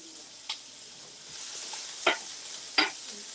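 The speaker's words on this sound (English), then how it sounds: "All right, so I'm going to go ahead and get these onions in." Onions sautéing in a pan with a soft steady sizzle and a few brief spoon scrapes, fairly quiet with no talk.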